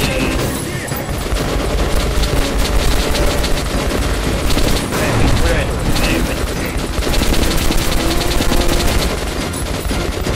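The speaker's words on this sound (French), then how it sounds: "Dépêche, la mitrailleuse!" Machine gun fire in the first-person shooter Metro Last Light, a loud, dense and continuous stream of rapid shots with booms and clatter, with a player's raised voice talking over it.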